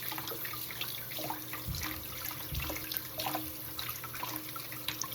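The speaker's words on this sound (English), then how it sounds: "You want to wash it out." Tap water runs into a kitchen sink while raw chicken pieces are rinsed and cleaned by hand, a quiet continuous trickle and splash with occasional louder handling splashes.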